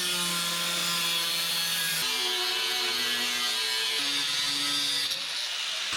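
A power saw cuts a shape for a welding cart upgrade, a close, steady whining buzz whose pitch steps down in several stages as the blade works through the material.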